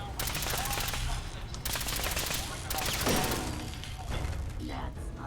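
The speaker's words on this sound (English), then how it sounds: "Okay, we can actually shoot at that." Rapid bursts of video game gunfire from Fallout 4, loud repeated volleys of shots with thuds in a dense, continuous battle mix across the whole stretch.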